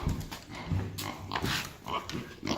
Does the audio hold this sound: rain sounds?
no